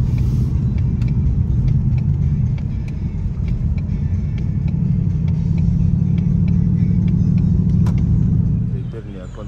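A car engine runs with a low, steady rumble, close and continuous, easing off slightly at the very end.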